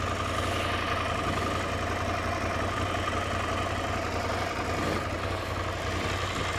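A Ducati Scrambler 800 Icon with an aluminium alloy exhaust idles steadily, a low, even engine hum that stays constant and fairly quiet with no revving and no talk.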